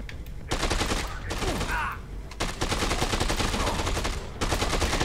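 Rapid automatic gunfire from an assault rifle in Dead Rising 2, bursts crackling loudly and almost continuously, with short gaps between volleys and game noise underneath.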